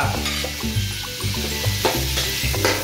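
Garlic sautés in a pan with a steady sizzle, and a utensil stirs and scrapes the metal in a few clear bursts. The frying is close and fairly loud, and no one speaks.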